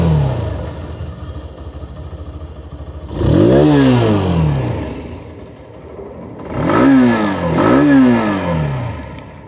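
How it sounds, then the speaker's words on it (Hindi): A 2022 Hero Xtreme 160R Stealth Edition motorcycle idles, then its engine is revved hard twice, the pitch sweeping up and falling back with each blip, loud and close with no talking. "इसकी जो इंजन साउंड है वो भी आपको सुना दूँ।"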